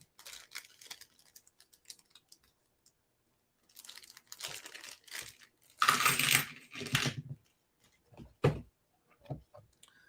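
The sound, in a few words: dice rolling during a Pathfinder tabletop game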